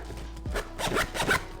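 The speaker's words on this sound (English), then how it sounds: "watch I break the zipper." Zipper on a Nomatic x PM McKinnon camera sling pulled open in one quick, close, scratchy run lasting under two seconds, with no talking.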